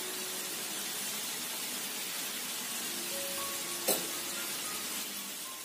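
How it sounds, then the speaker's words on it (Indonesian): Continuous soft hiss of food frying in oil, even and unbroken, with a single brief clink partway through. "aku mau goreng lebih kering lagi"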